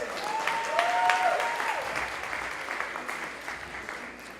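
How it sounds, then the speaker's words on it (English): An audience at a Muslim city arts festival gives a round of applause for the youth organisers, dense clapping with a few whistles that slowly tapers off. "Please join me in giving them a round of applause."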